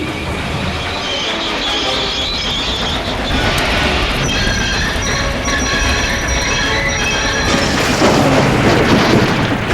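Toy engines' brakes scream and squeal as a cavalcade of trains plunges into a tunnel, a loud continuous metallic screech with ratcheting rail clatter, rising and swelling toward the end.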